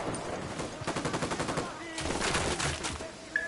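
Gunfire in a Ghost Recon video game, rapid automatic bursts rattling in fast rhythmic volleys with a couple of louder sustained stretches, mixed with background game noise.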